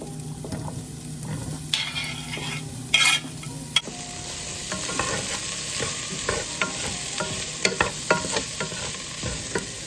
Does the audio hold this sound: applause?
no